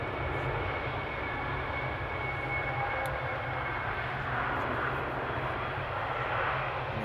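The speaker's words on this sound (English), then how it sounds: "we're going to see the 777 taxi. Indeed, Alice. Big boy time. Time for the king of the skies. And time for some GE90 power there." Boeing 777 with GE90 engines taxiing at Amsterdam Schiphol, a steady, fairly distant turbofan roar and whine holding at an even level throughout, with no voices.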